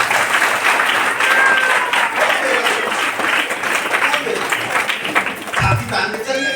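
Audience at a talk applauding: sustained, fairly loud clapping from a large crowd that tapers toward the end, with someone speaking over it.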